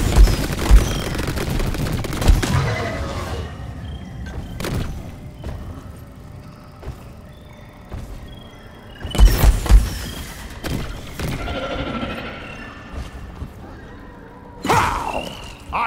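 Bursts of gunfire shooting at a fester in the Deep Rock Galactic video game: several loud volleys with thuds and booms separated by quieter game ambience.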